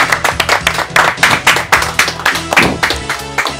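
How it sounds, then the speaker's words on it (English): Applause for the winner of a children's brainpower quiz show, a small group clapping loudly and close by in quick, uneven bursts throughout, with no talking over it. "A round of applause for her."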